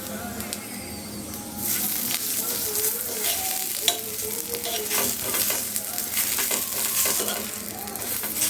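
Spinach and potato-stuffed paratha fries in refined oil on a pan, a close, continuous crackling sizzle with occasional scraping and a sharp tap, no speech over it.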